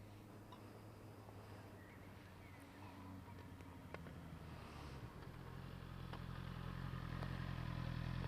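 A motorcycle rides a braking exercise on a test centre circuit, its engine a faint, distant drone that rises gradually as it approaches, with light ticking and clatter over the top.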